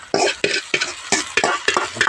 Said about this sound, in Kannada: ಸಾರು ಒಗ್ಗರಣೆ ಹಾಕ್ತೀನಿ